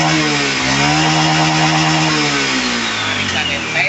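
An automatic scooter engine runs after a CVT service, a close, loud, steady buzzing idle with a slight dip in pitch near the end.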